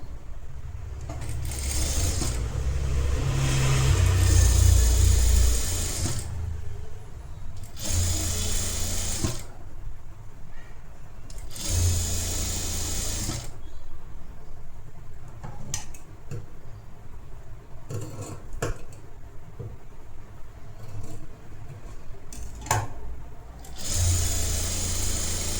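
A sewing machine stitches blouse fabric in several bursts of steady, rapid mechanical whirring, separated by short pauses, close and clear with no talk.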